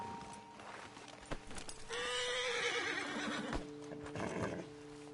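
Horses in the Red Dead Redemption 2 video game whinny loudly for several seconds over a background of game ambience, with hoof clops and a second, shorter neigh near the end.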